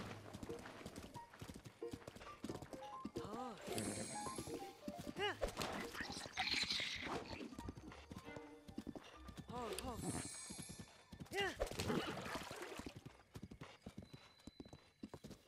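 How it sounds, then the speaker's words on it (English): Horse hooves clip-clop steadily along a road in The Legend of Zelda: Breath of the Wild, a rhythmic trotting pattern that runs throughout, with an occasional whinny and someone talking over it. "One cool thing is I don't have to control the horse at all, and it's gonna automatically follow the road I'm on."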